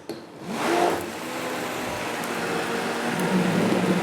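A blender runs at reduced speed mixing tomato gazpacho, a steady whirring motor hum starting up after a brief click and continuing evenly and close throughout.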